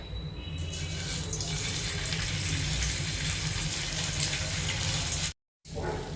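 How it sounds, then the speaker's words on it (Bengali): Paneer pieces fry one by one in white oil in a kadai, a loud, dense crackling sizzle that holds steady before cutting out abruptly near the end. "এবার মা এক এক করে পনিরগুলোকে ভেজে নেবে"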